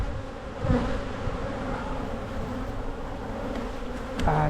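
Honey bees buzz steadily around an open hive frame full of brood in all stages during a walk-away split, a dense, close, continuous drone with a few louder passes near the listener.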